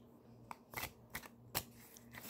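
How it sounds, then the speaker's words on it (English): Playing cards shuffled by hand in a quiet room, several close riffling bursts in quick succession with soft rustles between, no talk. "I just like shuffling cards."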